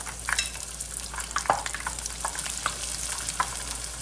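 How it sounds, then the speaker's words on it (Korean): Korean soy garlic fried chicken pieces deep-fry in hot oil for a second frying, a steady close sizzle with scattered pops and crackles and no voices. "다시 튀겨볼게요."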